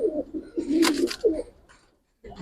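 Giribaz pigeons give a few close, throaty coos in quick succession, with a brief flutter in the middle and a short pause before another coo starts.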